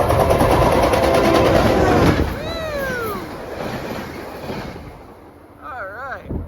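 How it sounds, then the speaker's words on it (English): A loud, rushing roar fills the first seconds as a train passes without stopping, then fades away. Wind buffets the microphone and voices speak briefly over it. "Here comes the train. I don't think he's gonna stop here."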